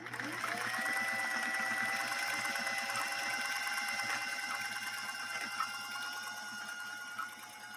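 Vintage 1960s Singer 503A sewing machine running steadily for several seconds, a continuous close whirring hum with a fast mechanical needle rhythm and a steady motor whine throughout.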